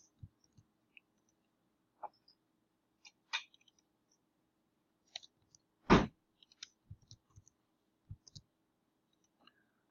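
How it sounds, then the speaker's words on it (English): Computer mouse clicking during office software work, a scattering of sharp, quiet clicks at irregular intervals over about ten seconds, including one louder click near the middle, close and isolated against near silence. "just double clicking on the blank line should allow me to go back and pick up my text from each section"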